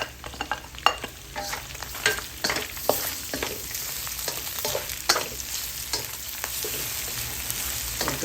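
Garlic and onion fry and sizzle in a pan as they are stirred for a sautéed bean sprout and tofu dish, the steady crackling broken by clattering scrapes of a utensil, close and clear with no talking.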